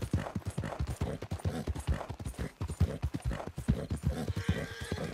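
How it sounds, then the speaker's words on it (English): Horse hooves clip-clopping at a steady gallop with a neigh, from the Red Dead Redemption video game, loud and continuous throughout with rhythmic hoofbeats. "You're the one tied to the back of a horse."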